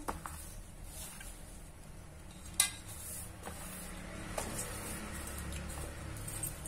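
Puri dough being stirred and mixed in a bowl, with soft scraping and squishing textures at a low, steady level and one sharp clink partway through; no talking.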